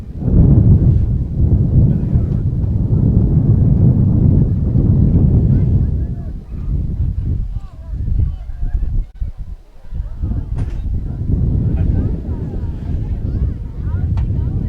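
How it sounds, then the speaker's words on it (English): Loud, rumbling wind buffets the microphone in heavy gusts at an outdoor high school football game, easing partway through before picking up again, with a voice faintly under it. "I know it's windy when I can hear it in my headphones."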